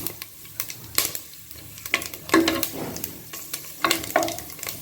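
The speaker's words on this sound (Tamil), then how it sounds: "இது பொரியும் போது இந்த மிளகு, ஜீரகம், வெந்தயம் சேர்த்துக்கோம்" Black pepper, cumin and fenugreek seeds fry in hot oil for a Ramadan nonbu kanji, giving a crackly sizzle with bursts of popping and stirring scrapes, close by and without talk.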